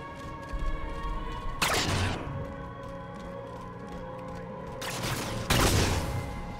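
Gunfire in Halo 4, two loud sharp blasts a few seconds apart standing out from a steady humming game soundscape, with no voices.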